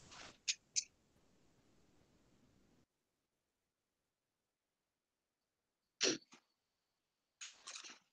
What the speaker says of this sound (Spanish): Voy a estornudar, pero no es por eso, sino que soy alérgico.